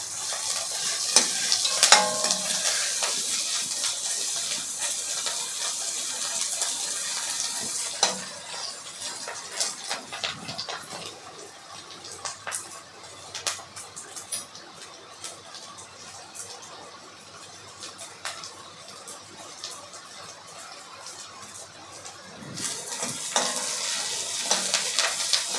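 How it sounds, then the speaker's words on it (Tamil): Onion, green chilli and curry leaves sauté in oil for a goat blood stir-fry, with a continuous sizzle, repeated spatula stirring and clinks against the pan, louder at the start and end. "பச்சை மিளகாவோட ஃப்ளவரும் அந்த வெங்காயத்தோட டேஸ்ட்டு, கருவேப்பிலை டேஸ்ட்லாம் நல்லா அந்த எண்ணெயில் வதங்க தான் உங்களுக்கு நல்லாயிருக்கும்."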